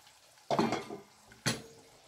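Yuca being stirred in a pot after the lid comes off, heard as two short clattering scrapes of a utensil against the metal pot, close and fairly quiet, with a near-silent gap between them.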